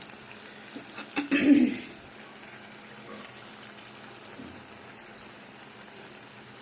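Jalebi batter sizzles in hot oil in a wok, a soft, faint frying hiss with a brief louder burst of bubbling early on, then a quieter steady crackle.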